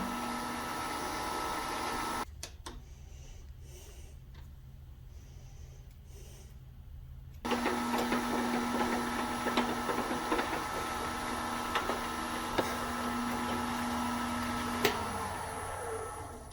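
A lathe turning a resin pen blank at roughly 1,000 RPM gives a steady mechanical whir with a constant tonal hum, briefly dropping away before resuming more strongly with faint ticks and light contact noises.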